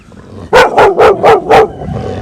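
A dog barks five times in quick succession, loud and close, with a brief pause after.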